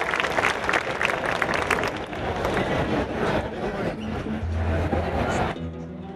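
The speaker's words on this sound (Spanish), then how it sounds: "Así que os pido un fuerte aplauso para ella." An audience at a Spanish town fair and fiesta applauds a percussionist, with loud, dense clapping that thins out toward the end before a sudden drop to a quieter background.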